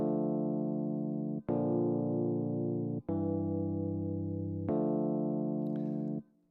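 Four sustained chords from a chord progression are played with a smooth, organ-like tone. Each chord holds for about a second and a half with short breaks between them, and there is no voice.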